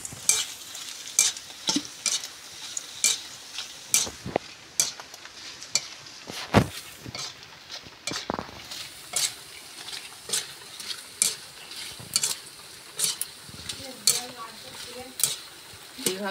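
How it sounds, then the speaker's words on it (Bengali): Homemade shell-shaped kurkure snacks fry in hot oil in a pot while being stirred, giving a soft continuous sizzle broken by regular, sharp scraping and clinking strokes of the spoon. "বন্ধুরা ঝিনুকও ভাজা হয়ে এসছে"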